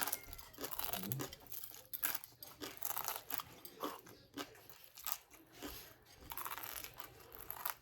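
Crisp churros being bitten and chewed up close, with repeated sharp crunches in an irregular rhythm and no talking.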